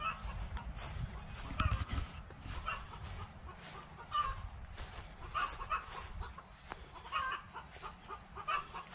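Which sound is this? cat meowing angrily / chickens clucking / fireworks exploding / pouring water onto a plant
chickens clucking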